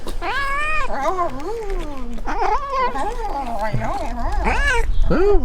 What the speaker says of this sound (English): there are a whole bunch of cats here on Santorini